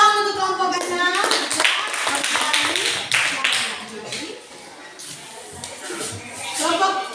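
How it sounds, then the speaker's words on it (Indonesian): A junior high school classroom applauds a student group, with brisk scattered clapping from many hands rising and falling over several seconds, mixed with children's chatter and shuffling. "tepuk tangan untuk kelompok 6"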